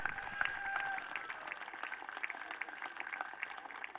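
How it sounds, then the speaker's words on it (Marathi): A prize ceremony audience at the STPL 2024 cricket tournament in Sinnar claps steadily, a fairly faint, even patter of many hands sustained throughout with a slight ringing tone early on. "जुन्नर भूषण मनोजजी बेल्लेकर सरांसाठी जोरदार टाळ्यांचा गजर झाला पाहिजे"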